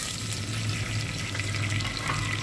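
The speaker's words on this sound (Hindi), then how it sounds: "जिंजर गार्लिक पेस्ट को अच्छे से हम भून लेंगे।" Ginger garlic paste frying in a little oil in a pan for macaroni pasta, a steady close sizzle and crackle running without pause and with no talking.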